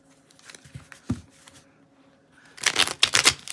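Tarot cards handled and shuffled for a three-card pull, with soft scattered taps at first and then a close burst of rapid riffling near the end.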